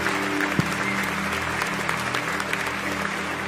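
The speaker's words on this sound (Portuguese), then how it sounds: "aplauda o Senhor bem forte" A church congregation applauds steadily and fairly loudly, a continuous wash of many hands clapping with no pauses.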